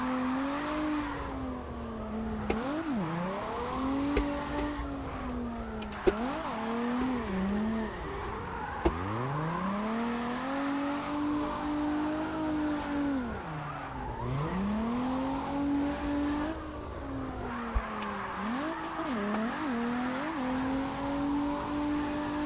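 A car in a video game revving hard and skidding, its engine whining up and down in repeated swoops with tire squeals and a few sharp knocks, loud and continuous throughout.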